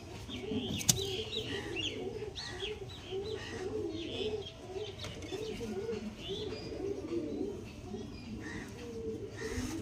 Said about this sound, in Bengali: সব বড়াই পায়রাগুলো।